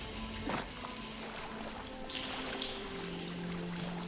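Water flowing in the game Horizon Forbidden West, a steady, fairly faint rushing wash of liquid with a low hum beneath it, continuous throughout.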